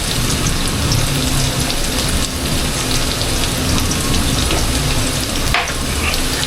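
Tap water runs in a loud, steady, continuous rush close by, a broad hiss that holds without a break throughout.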